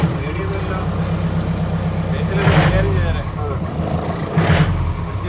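An old four-wheel-drive jeep engine runs steadily close by on an off-road outing, a low rumbling idle with two brief louder surges, while people talk over it.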